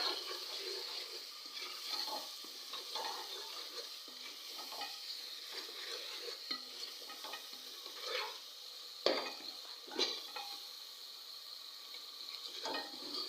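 A soft, steady sizzle of masala of coriander and cumin frying in a pot, with a spoon stirring and scraping the pot at intervals. It is faint and close, with no talk.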